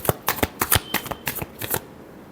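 Tarot cards being shuffled by hand, with a quick series of crisp riffling bursts close up, about eight or nine in a row, stopping near the end.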